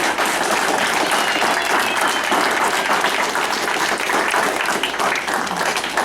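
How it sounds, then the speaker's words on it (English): A dense, sustained wash of applause from an audience at an awards ceremony, loud and steady throughout with no voice over it. "you all deserve a round of applause"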